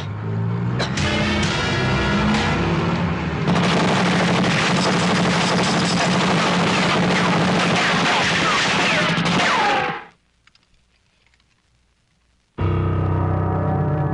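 Dense, sustained gunfire from an action-film shootout crackles loudly for about ten seconds, then cuts to near silence before loud noise resumes.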